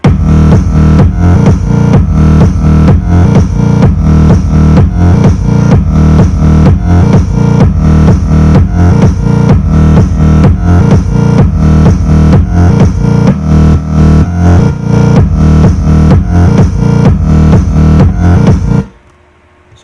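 Electro house lead synth with a vocal, formant-shaped tone, playing a loud, dense rhythmic pattern over heavy bass for about nineteen seconds before cutting off abruptly.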